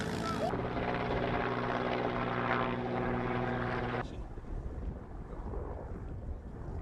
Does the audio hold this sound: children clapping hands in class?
no